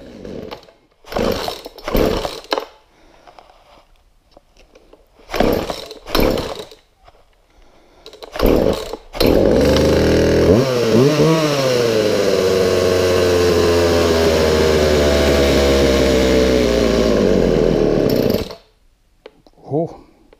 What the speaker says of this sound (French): On est capable de partir ça, cette scie mécanique-là, sur vidéo.